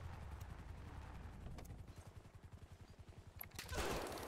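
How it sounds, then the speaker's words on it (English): Gunfire in GTA V with the LSPDFR police mod comes as a rapid burst of repeated shots at a steady pulse, then a louder blast of noise near the end, set against a constant low rumble. "Shots fired!"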